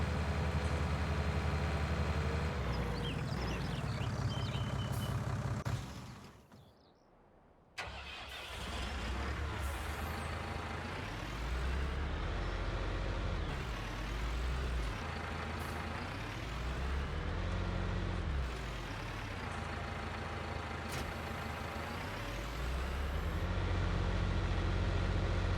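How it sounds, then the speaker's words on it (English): Fendt and Massey tractors from Farming Simulator 19 driving: a loud, continuous simulated diesel engine drone that shifts pitch as it revs up and down, with a brief drop near the middle before the engine note returns. "we are going to get the Fendt and the Massey over to the oat field"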